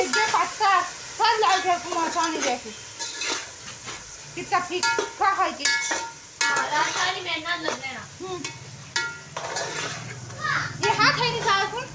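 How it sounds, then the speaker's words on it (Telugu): Onions, tomatoes, coriander, fenugreek leaves and mint being stirred in a cooking pot for colour rice and chicken curry: soft sizzling and scraping strokes run steadily beneath near, constant talking and children's voices. "ఇలా బాగా కలుపుకుంటూ మగ్గించుకోవాలండి"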